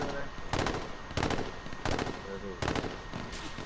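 Gunfire in the H1Z1 battle royale game: five short bursts of automatic weapon fire spaced roughly evenly, loud and close, with faint voices briefly in the background.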